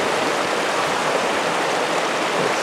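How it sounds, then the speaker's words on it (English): A flooded creek in Prescott National Forest runs past exposed bedrock, a steady, loud rush of churning water that holds an even level throughout with no voices. "Running on this side of the creek."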